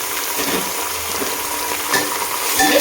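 Unmarinated chicken pieces frying with onions in a pan give off a steady, close, continuous sizzle with faint stirring scrapes, and no one speaks over it.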